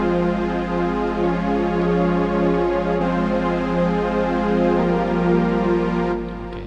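Synthesizer strings from the free Superwave VST in FL Studio hold a sustained, lush chord that swells steadily and shifts harmony near the end before fading slightly, played alone with no voice.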